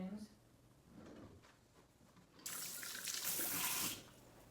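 A kitchen tap runs to wet a rag for wiping pickle jar rims, a loud rushing stream that starts partway through and stops, with a voice speaking before it.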